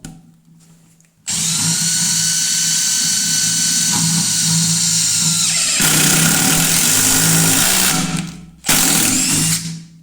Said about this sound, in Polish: Tryb A, czyli wkręcanie wkręta najpierw z małą prędkością obrotową do załapania pierwszego udaru.